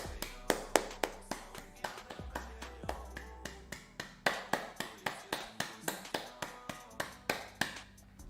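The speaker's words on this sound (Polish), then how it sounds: "Brawa dla Sandry." A small group claps for Sandra, steady clear claps at a brisk, even rhythm throughout, close and distinct.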